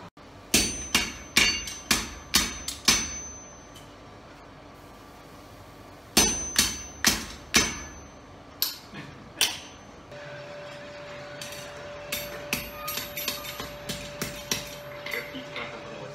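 Hammer blows on hot metal at a blacksmith forge in the Czech Republic, ringing in quick bursts of four to six strikes separated by pauses, then lighter rapid taps over a steady tone near the end.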